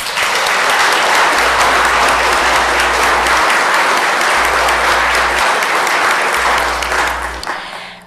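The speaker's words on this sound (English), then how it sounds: "That is worth a round of applause." Loud, steady applause from the audience at a city council meeting, dense clapping that holds for several seconds before tapering off, with a low electrical hum underneath.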